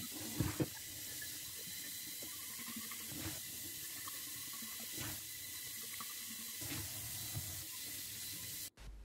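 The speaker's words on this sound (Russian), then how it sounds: "Помыли и прополоскали под проточной водой." Water runs steadily from a tap with soft splashing and occasional clinks of glass jars being rinsed, fairly quiet and close.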